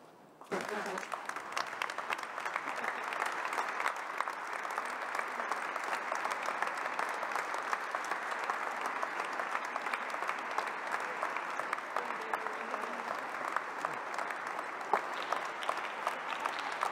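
An audience at a fashion show breaks into sustained applause, a broad wash of many hands clapping that rises quickly and holds steady, with some talk and crowd murmur mixed underneath.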